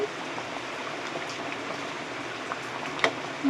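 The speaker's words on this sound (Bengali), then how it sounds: "এখানে আমি মাংস আর আলুটা সিদ্ধ হওয়ার জন্য কিছুক্ষণ ফুটতে দেবো মাঝারি আঁচে" Chicken and potatoes simmering in a curry over medium heat give a steady, soft bubbling hiss that runs evenly throughout, with a faint clink near the end.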